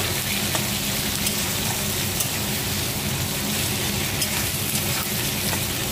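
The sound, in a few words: curry leaves and spices frying in a pan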